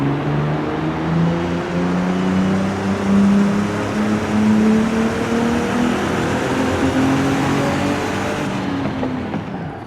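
Inside the cabin of a Nissan GT-R R35, the engine hums as a sustained drone that rises and falls in pitch, smooth and continuous at moderate loudness with no talk.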